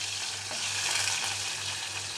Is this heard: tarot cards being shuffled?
no